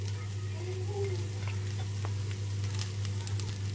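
Spring onions sizzle steadily in a hot pan of egg fried rice, a constant frying hiss with faint stirring clinks and a low hum underneath, no talking.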